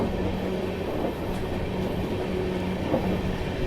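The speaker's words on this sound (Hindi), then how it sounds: "घीच गया भाई, निकल गई हमारी कोलकाता राजधानी" Kolkata Rajdhani Express rolls past the Magadh Express in dense fog, giving a steady, dense rumble of wheels and carriages with faint rail clatter and no voices.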